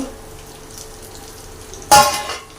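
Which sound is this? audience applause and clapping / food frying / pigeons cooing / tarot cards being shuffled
food frying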